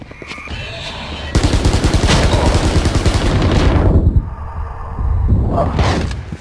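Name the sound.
gunfire in the video game Valorant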